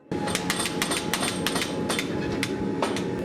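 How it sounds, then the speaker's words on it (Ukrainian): An electric, foot-pedal-operated forging hammer stamps steel brackets heated to about 600–700 degrees in a workshop, delivering a rapid irregular series of sharp metallic blows over a loud, constant machine drone. "Це станок, молот, який відбиває скобу."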